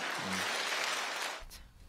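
Studio audience on a Korean political talk show breaking into applause, a soft, steady patter of many hands that fades away after about a second and a half.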